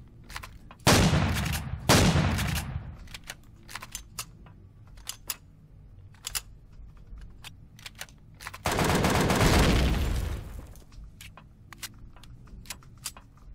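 Shotgun blasts in the sci-fi survival game Empyrion, two heavy booming shots close together early on and a longer burst of fire later, with sparse clicks and small game noises in between.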